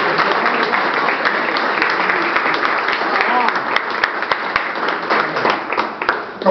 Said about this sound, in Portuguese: Eu queria até uma salva de palmas para uma pessoa que...